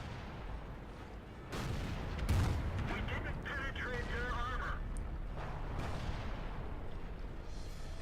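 A Super Pershing tank fires its cannon in World of Tanks. Heavy booms land over a constant rumble of battle noise, and game voice lines and chatter can be heard now and then.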